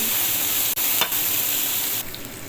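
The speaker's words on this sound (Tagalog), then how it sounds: "Tayo ay maggisa ng sibuyas at bawang" Onion and garlic sauté in the oil left from frying meatballs, giving a loud, constant sizzle with a brief stir, then slightly quieter frying at the end.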